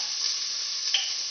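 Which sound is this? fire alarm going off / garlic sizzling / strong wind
garlic sizzling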